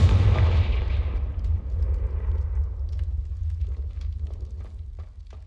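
A booming Confringo blasting-spell explosion from Hogwarts Legacy hits loud at the start, then a deep rumble fades away over several seconds, with scattered crackles trailing off.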